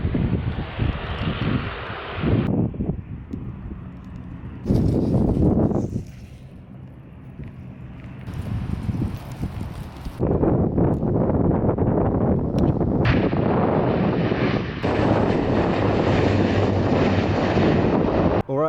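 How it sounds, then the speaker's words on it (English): A plane lands at London City Airport, its engine roar loud and sustained, swelling and dipping with heavy wind buffeting across the microphone. "the plane just landed"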